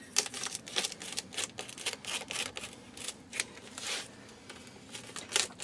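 Cooler insulation being cut, a faint run of crisp, irregular snipping and crinkling strokes with no talking.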